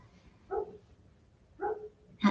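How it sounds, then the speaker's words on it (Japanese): A neighbour's dog barks outdoors, giving three short, separate woofs spaced about a second apart, moderately loud and slightly distant, with quiet background between them. "近所の犬が吠えてます。 The dog is barking"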